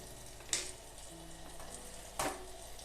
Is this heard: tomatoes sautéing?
yes